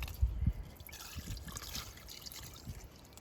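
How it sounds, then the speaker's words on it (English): Water poured from a container onto an allotment compost heap, a soft trickling and splashing stream with a few louder splashes at the start, close and fairly quiet. "Just a little bit of water to go through the center."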